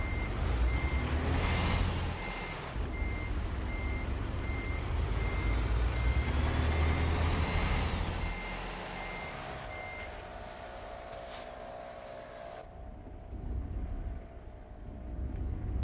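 A truck in the American Truck Simulator video game backs up, its reversing alarm beeping steadily in a regular pulse over a loud diesel engine rumble that eases off toward the end.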